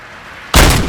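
A single loud, sharp blast from a gun at a shooting gallery in RoboCop: Rogue City, close up, with a heavy low boom that decays quickly over a faint background.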